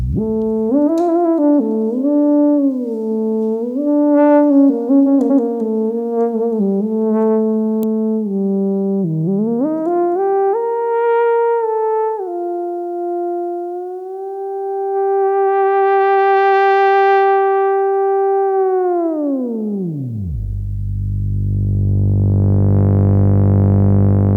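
An Expressive E Osmose synthesizer tone slides smoothly between pitches in a portamento glide, wavering and gliding up and down, then sweeping steeply downward into a low buzzy note.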